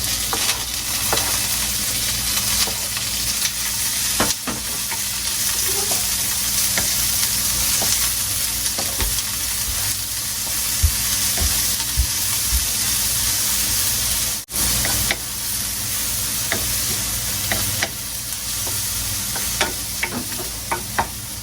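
Onion sizzles and fries in a hot pan for a kangkong dish. A constant loud hiss runs throughout, with occasional stirring scrapes and clicks and no talking.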